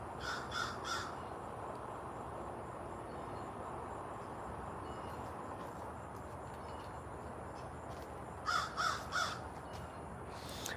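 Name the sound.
crow cawing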